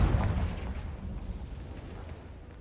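A Confringo fire spell bursts in Hogwarts Legacy, a loud deep boom at the start that rumbles and fades away over the following seconds.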